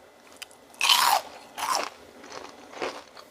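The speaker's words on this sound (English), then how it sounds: "And you got to hear this crunch." Three or four sharp, close crunches of teeth biting into homemade Luby's-style fried cod, each bite a distinct loud burst separated by short quiet gaps.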